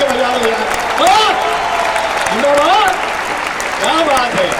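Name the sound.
audience applause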